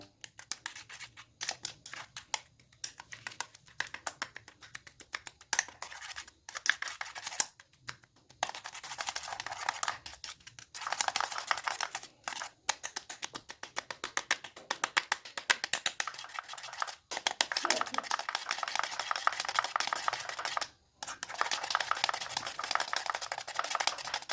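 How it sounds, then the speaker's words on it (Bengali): Ingredients for a cracked-heel remedy stirred and mixed in a container, giving a close, continuous run of scraping, clicking strokes broken by a few short pauses, with no one talking. "এবারে এই জিনিসগুলিকে ভালোভাবে নেড়ে চেড়ে একে অপরের সাথে মিশিয়ে নেবো"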